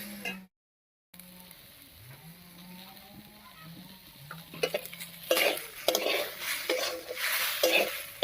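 Stirring salt and turmeric into dal with beans in a pot, a spoon scraping and clinking against the metal in quick strokes over a quiet kitchen hum, briefly cutting out early on.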